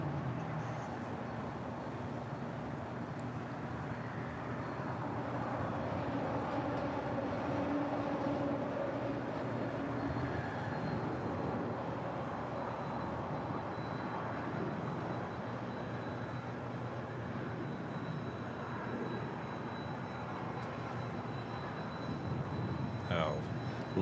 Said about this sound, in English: So United Airlines flight 230 coming in from London and the 787-9 Dreamliner